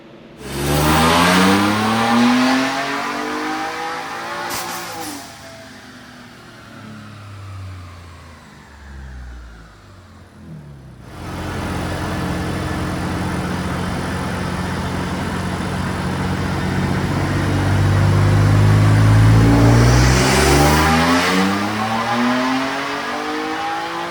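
A powerful turbocharged Ford Ranger Raptor engine revs hard on a dyno, drops back, then climbs into a long sustained roar with whining turbo spool, loud and close.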